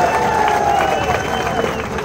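Crowd at a political speech clapping and cheering, dense applause mixed with shouts and babble, loud and continuous throughout.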